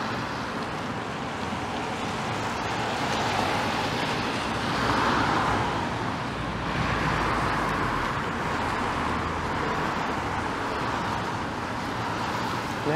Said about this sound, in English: There is the 19 bus.